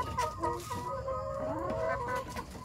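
Free-range laying hens cluck softly while feeding in a village coop, several overlapping calls close by and fairly quiet, with no one speaking.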